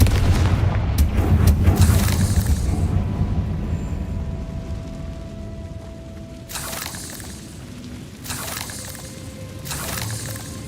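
A Confringo spell blast in the Hogwarts Legacy video game: a loud booming burst at the start, then softer rumbling and further short explosive bursts, alone without speech.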